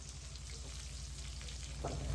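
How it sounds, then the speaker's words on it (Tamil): Chopped onions frying in hot oil for a North Chennai-style fish curry, a steady close sizzle and crackle with no talk, swelling louder near the end as more goes into the pan. "இப்போ நம்ம தேவையான கட் பண்ணி வச்சிருந்த வெங்காயத்தை நம்ம போட்டுக்கலாம்."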